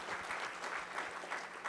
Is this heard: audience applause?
yes